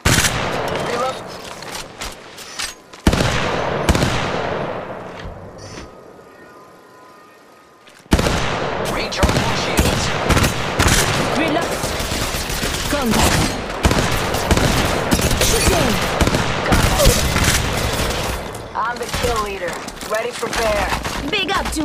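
Rapid bursts of gunfire in the mobile shooter Apex Legends Mobile, loud repeated volleys with short pauses between, one brief near-silent gap, and game voice callouts mixed among the shots.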